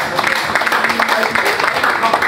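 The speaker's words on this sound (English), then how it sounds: "Round of applause." An audience at an award ceremony in Ikeja, Lagos, gives a round of applause. The clapping is steady and moderately loud, with voices mixed in.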